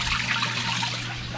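Water rushes steadily into a Maytag washing machine as it fills, a continuous hissing trickle with a low hum underneath, no voices.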